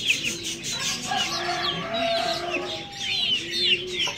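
Several desi chickens and chicks cluck and chirp softly and continuously, their calls overlapping at close range.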